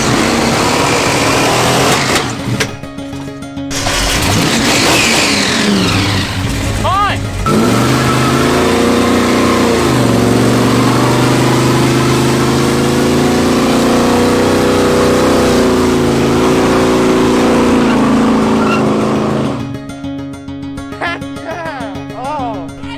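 A supercharged 1968 Dodge Charger engine roars loudly as it revs hard through donuts, with sweeping rises and falls in pitch and the tone of a backfiring engine. Voices can be heard over the engine at times before it drops back near the end.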